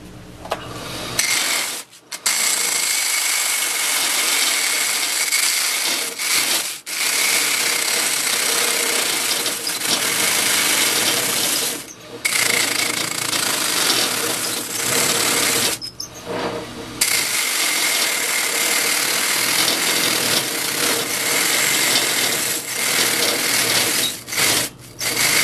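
A sanding mop is worn down against a section of 2x4, giving a steady loud abrasive whir and rasp that runs nearly unbroken, with a few brief pauses as the wood is lifted away.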